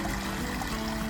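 A gently flowing forest stream gives a steady, soft, even trickle that runs throughout with no other sounds.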